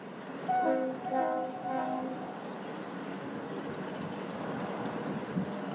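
A freight train horn sounds in a couple of long blasts at Cajon Pass, then the steady low rumble of the passing train continues alone.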